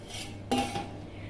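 A metal lid lifts off a pot of mushroom biryani with a single sharp clink and a short scrape, then a faint ringing fades into quiet kitchen background.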